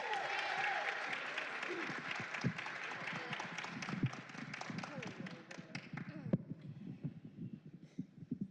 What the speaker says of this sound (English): please join me in welcoming with a huge round of applause